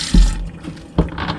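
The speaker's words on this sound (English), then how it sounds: "And so now we can run water." Tap water running on an old sailboat after the tank is refilled comes in short splashy bursts, a close gush near the start and another about a second later, with quieter trickling between.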